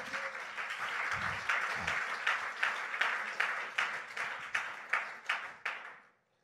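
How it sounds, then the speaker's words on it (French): A church congregation applauds during a worship service, a dense, loud wash of clapping that holds steady, then thins into separate bursts and fades out. "Est-ce que tu peux acclamer le roi des rois?"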